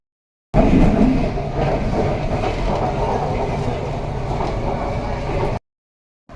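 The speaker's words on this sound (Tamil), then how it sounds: "வடபழனி மெட்ரோ ட்ரெயின் ஏறி போயிட்டுருக்கேன்" Interior of a Chennai metro train in motion near Vadapalani: a steady rumbling roll with faint rhythmic clacking, continuous for several seconds before cutting off abruptly.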